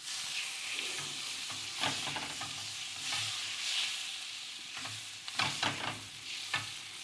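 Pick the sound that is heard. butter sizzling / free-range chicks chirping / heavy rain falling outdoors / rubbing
butter sizzling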